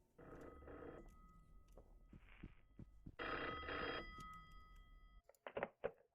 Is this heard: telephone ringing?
yes